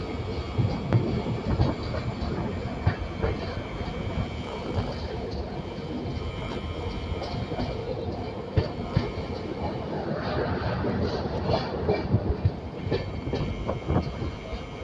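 Inside a coach of the Shatabdi Express, train 12025 running from Pune to Secunderabad, a steady rolling rumble continues with occasional knocks and clicks from the wheels.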